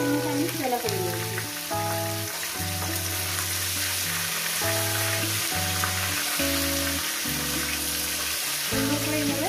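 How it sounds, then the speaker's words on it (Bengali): Catla fish head fries in hot oil with a steady, close sizzle and crackle, occasional stirring, and background music playing throughout. "মাছের মাথার মতো ভেজে নেব।"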